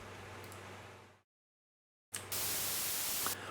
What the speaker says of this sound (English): as you can tell when we go back to white noise